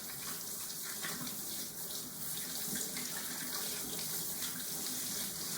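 Water runs steadily from a kitchen faucet while hands are rinsed clean of soap, a constant close splashing hiss with small fluctuations and no speech.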